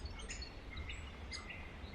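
Several small birds chirp and call in a backyard, short bright tweets scattered across the moment at moderate distance over a steady low outdoor rumble.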